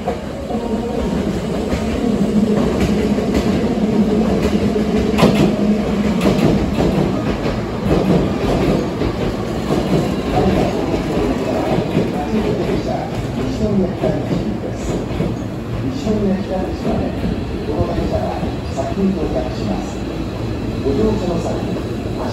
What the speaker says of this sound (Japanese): まもなく1号線に神戸三宮方面に向かう電車が到着します。